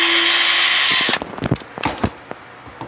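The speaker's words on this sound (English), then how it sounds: "I love that little drill." A small IKEA power drill whirs steadily up close, then stops, followed by a few clicks and knocks of handling.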